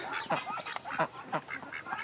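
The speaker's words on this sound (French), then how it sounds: "Il y a même mes canards du Clair qui sont passés là" Several Duclair ducks quack in quick, overlapping bursts, close and clear, with a busy rhythmic chatter.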